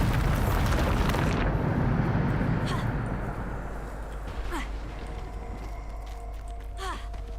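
Bombarda spell explosion in Hogwarts Legacy, a loud broad blast that booms up front and then decays into a lingering rumble with scattered sharp effects trailing after.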